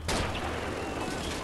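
Dense, loud gunfire and explosions from the Call of Duty video game form a continuous battlefield roar, opening with a sharp blast.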